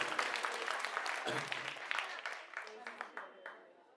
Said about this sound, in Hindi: एक बार जोरदार तालियां अपने लिए बजाएं